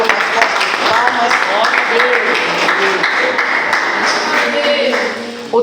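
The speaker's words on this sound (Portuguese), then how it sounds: "Pode glorificar com as fortes palmas." A church congregation claps strongly together in a large worship hall, a dense, sustained burst of applause lasting throughout, gradually thinning near the end.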